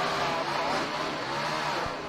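Race car engines in the NASCAR 2006 video game, a dense, continuous roar of several cars at speed, loud and sustained without a break.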